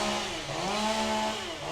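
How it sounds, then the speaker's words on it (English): Leaf blowers running outside, a continuous droning engine whine that holds steady throughout with slight pitch wavering, fairly loud and with no talking. "Leaf blowers."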